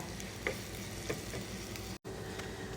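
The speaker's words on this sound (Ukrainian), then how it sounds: "Ідемо жарити цибульку і чеснок." Onions and garlic sizzle steadily in a hot pan, a continuous crackling hiss with occasional small pops and a brief dropout near the end.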